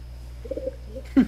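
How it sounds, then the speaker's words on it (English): Angry pigeons cooing in the video game Hatoful Kareshi: a few soft low coos, followed by a louder, sharper coo near the end over a faint background hum. "And cue the angry birds."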